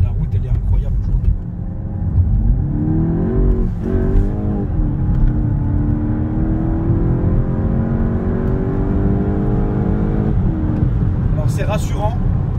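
A car accelerates on an open road, its engine tone climbing steadily in pitch as the revs rise, loud and close from inside the cabin, with a brief dip and another pull partway through.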